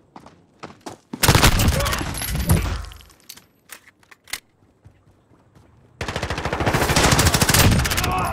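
Bursts of rapid automatic gunfire crackle in a military video game, with a dense burst early on and a longer sustained volley near the end, interspersed with sharp individual shots and metallic clinks.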